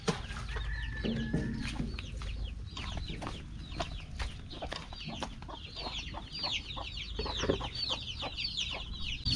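Free-range pet chickens cluck and chirp continuously at close range, with overlapping hen calls and occasional louder squawks over a steady farmyard background.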